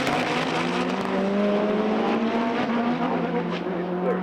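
Front-wheel-drive drag race cars, one of them a VW, accelerate hard down the strip with loud engine roar and rising pitch as they go through the gears, close and continuous.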